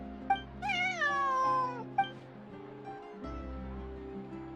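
A cat meows a few times in Genshin Impact, bright rising-and-falling calls heard close over a steady background music bed, with no talking.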